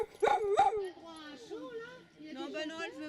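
A greyhound gives two sharp barks close up, then drawn-out whining, howling yelps that rise and fall, heard fairly alone.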